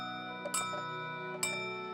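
A clock chimes twice, two bright strikes about a second apart ringing over sustained, layered bell tones.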